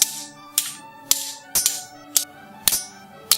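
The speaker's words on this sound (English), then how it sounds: "we use spoons and forks" Foley sword sound made by clashing spoons and forks together: about seven sharp metallic clinks with ringing tails, spaced roughly half a second apart, close and clear with no voices.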